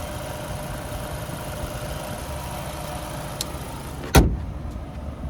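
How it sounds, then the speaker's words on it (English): Steady engine idle of a 2024 Lincoln Nautilus Black Label, then a single heavy thud as its hood slams shut near the end, followed by a quieter hum. "The thud of the hood was even just"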